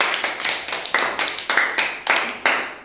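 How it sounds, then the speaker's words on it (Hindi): Children in a classroom clap their hands together in a quick rhythmic series, about a dozen crisp, fairly close claps in unison with no talking. "ताली बजाओ बच्चों"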